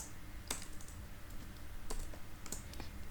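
Code being typed on a computer keyboard in a quiet room, with a few soft, scattered keystrokes sounding close by at an uneven pace.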